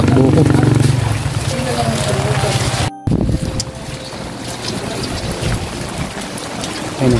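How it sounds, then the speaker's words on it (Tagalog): Steady rain pours down outdoors with gusts of wind buffeting the microphone, a loud continuous wash of noise with a brief cutout partway through. "Umuulan."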